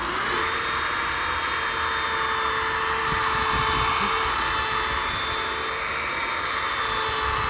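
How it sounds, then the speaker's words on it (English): A power sander runs a 3000 grit disc across a dome, giving a steady high-pitched whine that holds even and loud throughout with no pauses. "the 3000 grit sanding disc."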